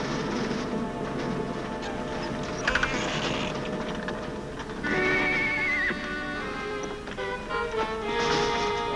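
A horse whinnies loudly with a rising, wavering cry, set against steady outdoor background noise and faint hoof clops, in an old black-and-white Western scene.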